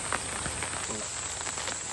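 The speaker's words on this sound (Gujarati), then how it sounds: "આ છત્રી ઉપર છે વરસાદ પડે છે અત્યારે" Steady rain patters densely and close on an umbrella overhead, a constant hiss with scattered individual drop taps, no voices.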